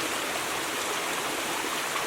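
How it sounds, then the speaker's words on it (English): A small mountain stream flows in a steady, close, broadband rush of water with no pauses or voices. "So I decided to stop at this little stream"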